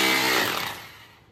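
A power drill grinds into a concrete roof slab with a loud, harsh, broadband whine that is close to the listener and fades over about a second, with no talking.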